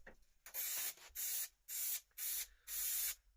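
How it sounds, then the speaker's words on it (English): Five short bursts of aerosol spray glue hissing close by, each lasting about half a second with brief pauses between. "Give it a good old spray on there."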